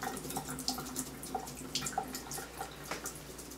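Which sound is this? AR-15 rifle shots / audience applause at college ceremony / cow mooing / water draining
water draining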